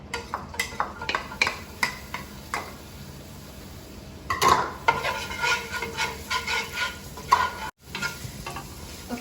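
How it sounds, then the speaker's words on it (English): Ginger sizzles and crackles in a hot pan while a utensil stirs and scrapes against it, loud and close, the frying rising in bursts as tomato chutney for momos gets started. "we're going to roast it until golden brown, and you can smell the ginger"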